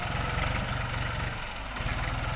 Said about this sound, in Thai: มาดูรถไถนาครับเป็นแท็กเตอร์ครับ Ford New Holland ครับ TT 45